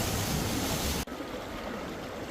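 Forceful flood water rushes in a loud, continuous roar, dropping suddenly to a softer, steady flow partway through, with no voices heard.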